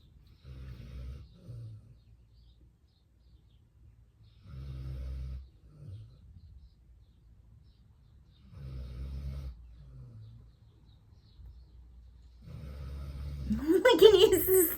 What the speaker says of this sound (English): I can hear the snoring.